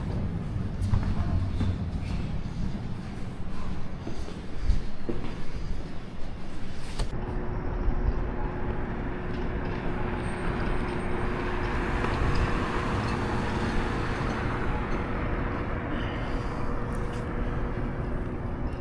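A tram passes a stop, a steady broadband rumble with a sustained rolling tone that sets in partway through and holds to the end, with no talking.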